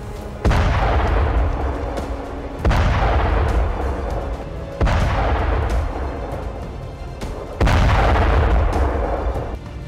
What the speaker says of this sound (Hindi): जमीन पर पुतिन को 21 तोपों की सलामी दी जा रही थी